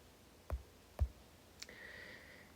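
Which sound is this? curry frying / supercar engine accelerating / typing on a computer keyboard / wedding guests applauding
typing on a computer keyboard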